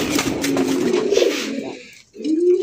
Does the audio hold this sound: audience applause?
no